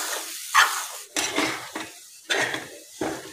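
Moong dal halwa being stirred in a nonstick pan, with a series of scraping, clattering spoon strokes against the pan over a light sizzle, close and distinct.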